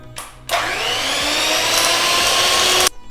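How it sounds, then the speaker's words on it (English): Electric mixer whipping homemade oleogel, a steady loud whirring motor drone that starts abruptly, holds for over two seconds and cuts off sharply, with no talk. "after a lot of hard work, I did use my mixer"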